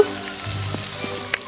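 Batter fritters for an eggless egg curry fry in hot oil in a wok, browning to a reddish color. A steady close sizzle with a few soft clicks and a brief sharp tick near the end.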